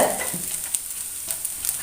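Grated coconut roasting in coconut oil in a pan, stirred continuously, with a steady close sizzle and a few soft scraping strokes over about two seconds.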